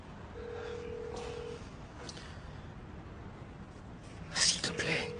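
Telephone ringing while a caller waits for an answer, a steady tone repeating at a distance with a quiet voice and a short burst of noise near the end.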